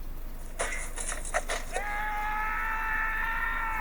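A scream from a movie sound bite, preceded by a few short, choppy bursts, then held as one loud, sustained, steady-pitched cry to the end.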